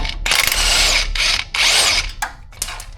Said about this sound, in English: You could use a wrench and a ratchet too, but I'm using an impact.